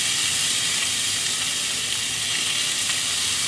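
Salmon skin sears in a pan over medium-low heat, giving a steady, close, dense sizzle that holds evenly throughout with no talking.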